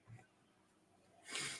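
A single person's sneeze, faint and close, a soft breathy intake followed by a sharp hissing burst at the end.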